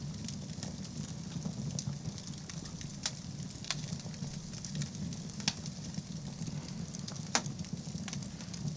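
Fish cooking over a campfire in the survival game Scum, a steady soft sizzle and crackle with scattered faint pops, low and continuous throughout.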